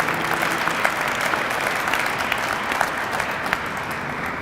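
Steady, close applause from an audience at a Martin Luther King celebration event, dense clapping throughout with a few sharper individual claps.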